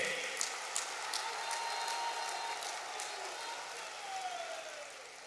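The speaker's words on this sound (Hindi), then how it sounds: "सब लोग ताली बजा करके इनका अभिनंदन कीजिए।" Dense applause from a large audience at an Indian government ceremony, a steady wash of clapping that holds evenly throughout and tapers slightly near the end, with faint voices mixed in.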